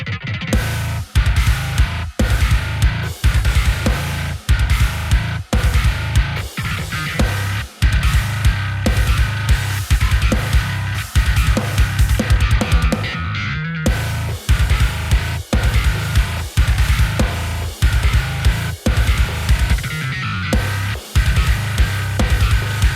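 A loud, driving bass riff repeats steadily with thick low tones and sharp plucked attacks, a real recorded bass and a virtual bass plugin layered in unison; no talking.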